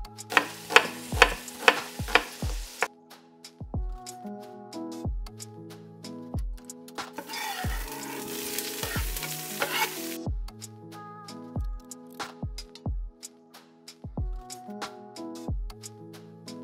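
Chicken frying in a pan for a chicken stew with fennel and kale gets turned and stirred, with close, steady sizzling broken by a series of sharp scraping and tapping knocks from the utensil.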